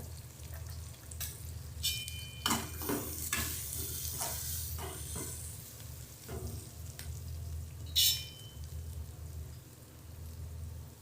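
Green chillies, ginger and turmeric fry in a pan for okra bhaji with a soft, steady sizzle, broken by several clinks and scrapes of a spoon stirring.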